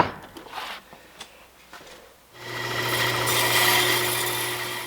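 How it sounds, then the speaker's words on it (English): A bandsaw shaves branch stubs off a dried Christmas tree log, starting with a few scattered knocks and handling noises, then the saw spins up into a steady, close whine with a constant hum. "I used my bandsaw to shave down all the spots where branches grew out of the log"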